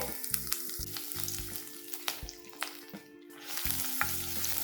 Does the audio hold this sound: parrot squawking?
no